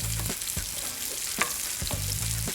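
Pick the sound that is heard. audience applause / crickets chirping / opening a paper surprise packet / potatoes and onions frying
potatoes and onions frying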